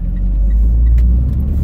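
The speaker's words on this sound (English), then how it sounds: "Garbage truck screwing up my audio." A garbage truck drives past outdoors, a loud, steady low rumble of its engine filling the whole stretch with no one talking.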